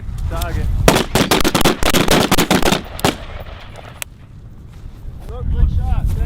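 Rapid rifle fire on a tank battalion's rifle range: loud, close bursts of repeated sharp shots crack out in quick succession, then stop briefly after a single shot and start up again, with voices shouting amid the firing.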